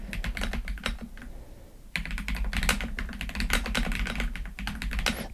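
Keys clatter on a Redragon Antonium K745 PRO mechanical keyboard with tall, large keycaps and medium-weight presses, close up in rapid, uneven bursts with a brief pause near the start.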